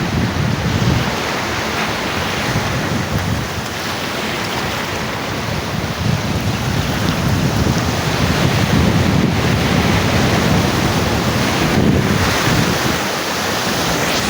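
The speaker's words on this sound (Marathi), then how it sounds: "मोठी लाट येते. पूर्ण असं भिजायला होतं." Ocean surf at Juhu Beach, a loud continuous roar of breaking waves mixed with heavy wind buffeting the microphone, steady throughout with no voices.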